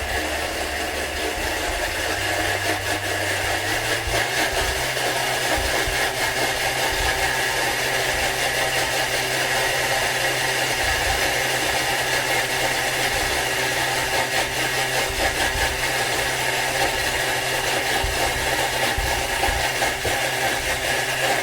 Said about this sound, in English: I'm going to manually drive the Thermomix now